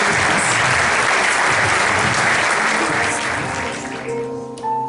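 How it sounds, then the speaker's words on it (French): Loud, dense applause from a large audience honoring event organizers, sustained clapping that fills the space before thinning slightly near the end. "J'aimerais que vous applaudissiez une deuxième fois très fort les organisateurs"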